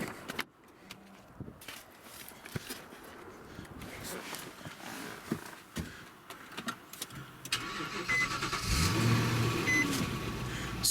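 An Infiniti FX (QX70) crossover SUV is started from inside the cabin, with a few quiet clicks and door handling sounds before the engine cranks and catches into a rising, steady idle.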